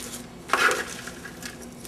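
Two spoons toss oriental coleslaw in a bowl, with one short clinking scrape of metal on dish followed by soft rustling and light taps, close and fairly quiet, with no voices.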